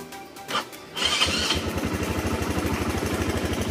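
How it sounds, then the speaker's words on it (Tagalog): A motorcycle engine cranks and fires up, with a few short bursts before catching and settling into a steady, close, rapid idle. Nothing else is heard. "So i-start muna natin yung motor natin."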